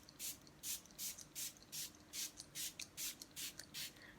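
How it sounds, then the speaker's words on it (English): A hand-pumped lavender aura spray mists repeatedly in a quiet room, about ten short, soft hissing puffs in an even rhythm, close by with no talking. "I want to spray with the, first of all, the lavender soul star spray"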